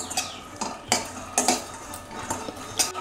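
Raw peanuts dry-roasting in a pan, stirred with a metal spoon that gives repeated close clinks and scrapes in an uneven rhythm over a faint rattle of nuts, no voices.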